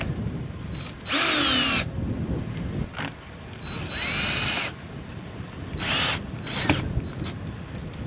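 A power drill spins in three bursts, driving screws into an RV keyless entry deadbolt lock, each whir close and loud with brief gaps of quiet between runs.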